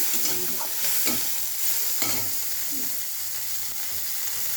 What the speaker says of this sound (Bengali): এই যে চিংড়ি মাছটা ছেড়ে দিলাম। তেলটা প্রচুর গরম হয়ে গেছে